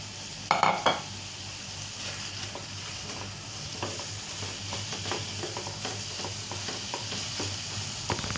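Chicken breast pieces for a chicken pasta with broccoli drop into a hot pan with a brief clatter, then settle into a steady sizzle broken by occasional utensil scrapes and stirs.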